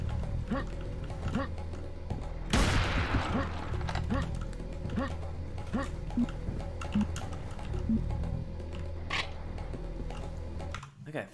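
Super shotgun and minigun fire in the Serious Sam HD extended mod, heard as a dense run of game weapon shots and impacts, with a loud blast burst early on, all layered under busy game noise.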